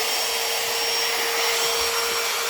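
A Ryobi P601 cordless trim router with a plexiglass base runs at its full 29,000 RPM, giving a steady, loud high-pitched motor whine and airy rush that holds constant throughout with no voices.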